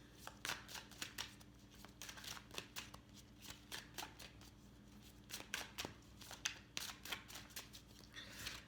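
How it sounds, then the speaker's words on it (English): Cards from a goddess oracle deck being shuffled and pulled, a quick run of crisp riffling flicks and soft slaps in uneven bursts, close and quiet, with no talking. "So I'm going to be pulling 3 cards from the top to see what's coming up for James."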